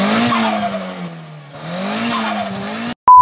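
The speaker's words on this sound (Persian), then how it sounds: "بریم ببینیم توربو چی میگه." A Shahin car's turbo engine revs up and eases off in rising and falling waves, loud and close, then a short electronic beep sounds at the end.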